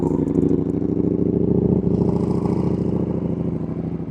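Motorcycle engine idling while it warms up on a very cold day, a steady loud rumble with a rhythmic mechanical clatter throughout, close to the bike.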